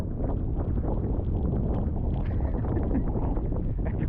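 Strong coastal wind buffets the microphone near Fishguard over the New Year, a steady loud roar with rumbling gusts that runs continuously and masks everything else.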